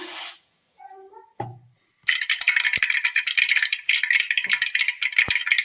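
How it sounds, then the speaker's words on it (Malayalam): A few faint clicks give way to dense, crackling pops of mustard seeds spattering in hot oil in a Kerala-style kitchen, rapid and irregular, close up. "ചൂടായ എണ്ണയിലേക്ക് കടുക് ഇട്ട് കൊടുക്കാം."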